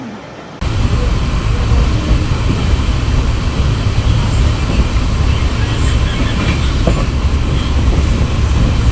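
A Sealdah–Krishnanagar AC local train runs alongside near Ranaghat, a loud, continuous rumble and roar with faint rail clatter that starts abruptly and carries on steadily, close by.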